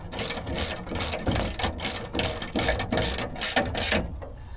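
A ratchet wrench cranks a swivel caster tight on a US General Series 3 five-drawer tool cart, giving steady rapid clicking bursts in regular strokes, close and loud with no talking.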